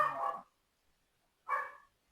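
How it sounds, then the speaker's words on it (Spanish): A dog barks twice in a quiet room, each burst sharp and fairly close, separated by about a second of silence. "el perro está ladrando, no sé si se escucha"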